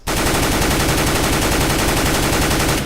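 Sustained automatic rifle spray fire in Counter-Strike: Global Offensive, a loud, unbroken burst of rapid shots lasting nearly three seconds.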